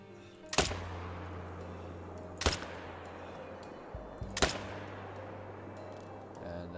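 Three sharp shots from a .223 rifle in the hunting video game theHunter Call of the Wild, evenly spaced, each a loud crack with a short decay over a steady low ambient drone.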